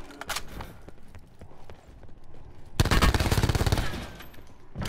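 Rapid automatic gunfire bursts loud and close in Black Ops 4 Blackout on Alcatraz, starting with scattered shots and then a dense sustained volley near the end.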